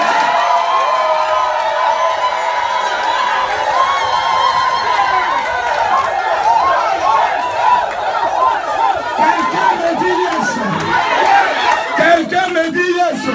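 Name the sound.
crowd cheering on request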